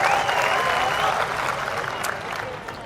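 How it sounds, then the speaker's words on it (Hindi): Applause from a mushaira audience in Bhopal, a dense, steady wash of many hands clapping at once, loud and sustained across the whole stretch, with crowd noise mixed in. "एक बार जोरदार तालियां बजाकर आप सब मुझे हुक्म दें"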